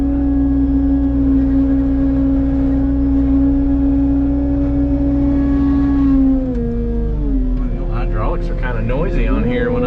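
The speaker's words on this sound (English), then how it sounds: "Noisy on here when I'm just backing up and barely touching the throttle." A Cat 289D3 compact track loader with a mulcher, clearing land with stumps around, reverses on light throttle: a loud, steady diesel hum with a strong tonal whine, dropping in pitch near the end as rattling track and hydraulic noise take over.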